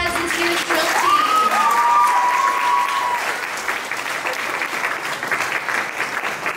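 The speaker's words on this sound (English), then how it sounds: "let's give them a round of applause" An audience applauds for a middle school drill team at its annual showcase, a steady dense clapping crowd with a brief whistle or cheer early on, continuing evenly to the end.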